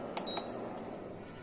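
A Preethi Trendy+ induction cooktop gives a short electronic beep on being switched on, two quick faint chirps and a thin tone over a quiet room hum.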